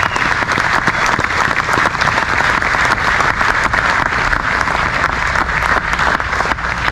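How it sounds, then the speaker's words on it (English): Loud, steady applause from a crowd at a bass fishing hall of fame induction for Rick Clunn, thick continuous clapping lasting about seven seconds with no pauses. "Round of applause for Rick Clunn"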